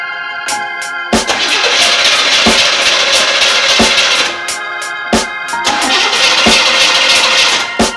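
The starter of a car that won't start cranks in two long whirring bursts, each preceded by sharp clicks and followed by a sudden stop, loud and close with no engine catching.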